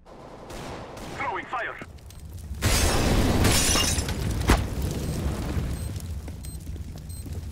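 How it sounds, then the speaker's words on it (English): A flashbang grenade detonates in the video game CS:GO, a sharp loud burst with a shattering, ringing tail, amid gunfire and match noise, with players talking. "Flashbang!"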